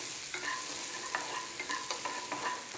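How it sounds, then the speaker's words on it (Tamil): Onions sautéing in a pan for Coorg-style fish curry, browning in oil: a constant bright sizzle with a few soft spatula scrapes scattered through, close and even, no voices. "நல்லா வெங்காயம் நல்லா ப்ரௌன் கலரில் வதங்குற வரைக்கும் சாட்டே பண்ணும்"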